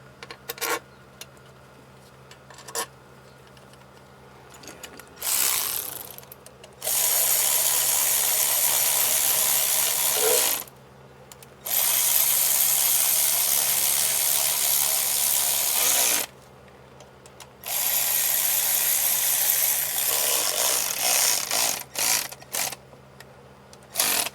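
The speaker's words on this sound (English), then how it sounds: "I'm just gonna get 2 bolts started." Bolts are run in with a ratchet or power tool on the engine cover of an M276 engine during camshaft and phaser work: several bursts of whirring, a few seconds each, separated by pauses, close by.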